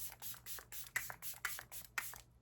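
A makeup setting spray hisses in a quick run of short bursts, about eight pumps in a steady rhythm, close and fairly quiet.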